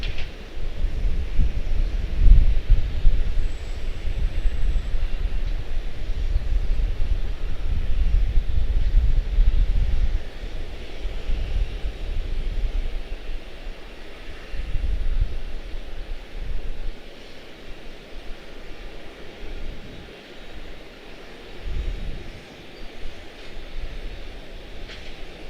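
A CRJ900 regional jet arriving from Dallas Fort Worth at Charlotte-Douglas International, its engines a steady low rumble that swells early on, then eases into a softer, fluctuating drone at a moderate distance.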